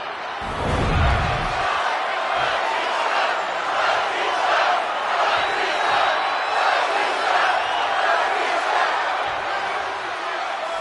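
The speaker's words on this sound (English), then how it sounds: "The entire WWE Universe is cheering on Shaq, including yours truly." A large arena crowd in the wrestling video game WWE 2K25 roars and cheers steadily throughout, a dense, sustained wall of loud crowd noise with rising swells of shouting.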